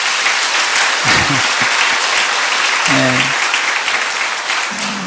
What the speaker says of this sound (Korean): 네, 박수로 하나 하겠습니다.